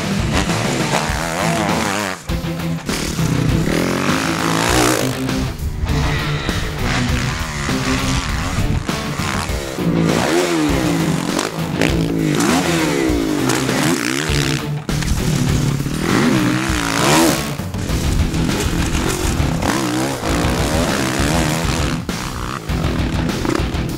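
A Kawasaki KX450F motocross motorcycle being ridden, its engine loud and near, revving up and down in repeated surges and shifts without pause and with no speech over it.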